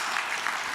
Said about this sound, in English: everybody give Firdaus a round of applause.